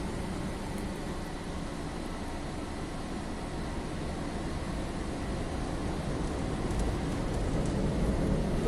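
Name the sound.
automated car wash high pressure vacuuming system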